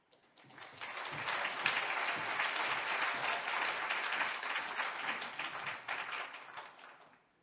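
A church congregation applauds together to welcome a visiting assistant pastor, a steady wash of many hands clapping that swells in quickly, holds evenly for several seconds, and fades out at the end.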